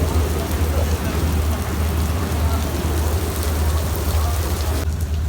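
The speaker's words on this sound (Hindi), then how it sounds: "इतनी तेज़ बारिश हो रही है।" Steady, loud rainfall hisses continuously over a deep low hum at a train station, with muffled voices faintly beneath the downpour.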